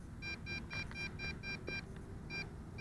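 A rapid series of short electronic beeps from an MJX Bugs 6 drone controller on signal loss, about a dozen evenly spaced, sounding over a low rumbling background.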